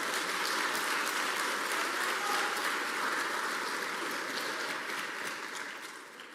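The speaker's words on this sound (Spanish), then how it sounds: "Aplaude al Rey de Gloria." A church congregation applauds together, a dense, steady wash of clapping that holds for several seconds and tapers slightly at the end, with no voices over it.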